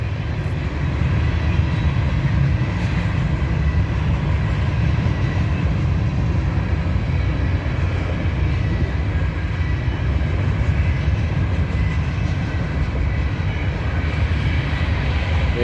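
BNSF 4328 leads an eastbound grain train past in Grand Island, with a Norfolk Southern DPU unit at the rear; a steady, loud, continuous rumble of rolling freight cars and engine noise fills the whole span without letup.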